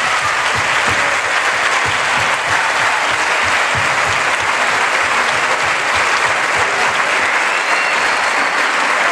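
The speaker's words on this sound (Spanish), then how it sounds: "yo os pido un aplauso muy fuerte para todos nuestros chavales" Sustained, dense applause from an audience for students after a musical afternoon performance, loud and steady throughout with no talk over it.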